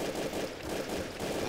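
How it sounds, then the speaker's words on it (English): Dense, continuous gunfire from a Counter-Strike: Source gun game match fills a short burst, loud and rapid, with the shots blurring into a steady roar. "I shot that guy in the head."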